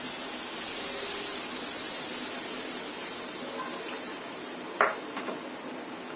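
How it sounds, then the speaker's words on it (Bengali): One cup of liquid milk poured into semolina that has been frying on low heat, a steady broad hiss and sizzle throughout with a brief splashing burst near the end. "এখন দিয়ে দিচ্ছি 1 কাপ লিকুইড দুধ।"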